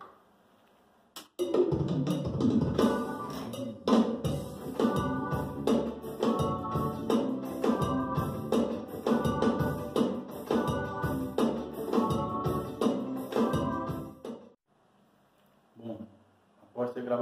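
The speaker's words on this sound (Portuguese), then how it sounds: "Agora vamos gravar a parte de teclado." Keyboard part played in a recording studio, a steady run of rhythmic chords and notes for about thirteen seconds, clear and close, then stopping into near silence.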